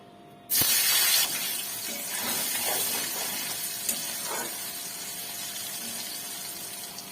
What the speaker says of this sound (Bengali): তেলটা গরম হলে আমি পনিরটাকে ভেজে নেব